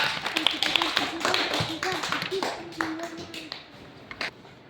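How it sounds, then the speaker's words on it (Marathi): Schoolchildren clap for a classmate in a Zilla Parishad primary school classroom, giving a loose, uneven patter of many small hands with voices mixed in. "सर्वांनी टाळ्या वाजवा खुशीसाठी"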